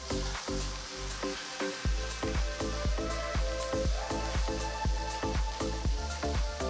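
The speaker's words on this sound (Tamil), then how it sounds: "பொடுசா நறுக்கின 1 வெங்காயம் சேர்த்து நல்லா வதக்கலாம்" Onion and green chilies sizzle steadily in a hot pan while rhythmic music with a regular beat plays over it.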